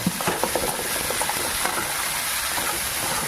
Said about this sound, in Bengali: আর উচ্ছেগুলো ভেজে নেব।